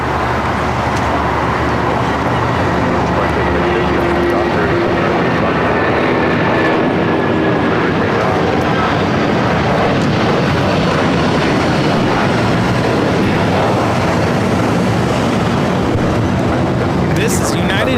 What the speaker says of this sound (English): This is United Airlines 1260 taking off to Denver on the 757-300